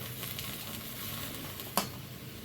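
Water heating in a pot for cooking taro flowers, after dried chillies were fried, gives a steady low sizzling bubble that carries on alone, with one brief clink near the end.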